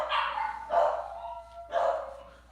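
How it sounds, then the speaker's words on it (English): Dogs bark loudly and close by in two separate bursts of full, throaty woofs, with a faint whine between them and no talking. "Yeah, my dogs."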